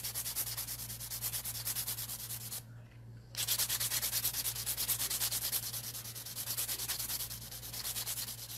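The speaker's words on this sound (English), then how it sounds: "now I'm going to turn the hand upside down and bevel out the inside of the nail" A nail file rubs back and forth against the underside of a long artificial nail at a salon, fast steady scraping strokes close up, with one brief pause midway before the rasping resumes over a low electrical hum.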